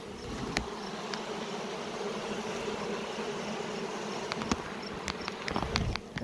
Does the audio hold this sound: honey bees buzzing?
yes